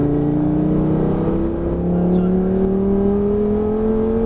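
A Lamborghini Gallardo accelerates on the Lédenon race circuit, its engine a loud, steady, rising drone heard from inside the car while an instructor speaks briefly over it.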